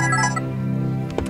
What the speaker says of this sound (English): Oh, now my phone's ringing.